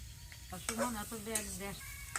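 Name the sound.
bitter gourd frying in a pan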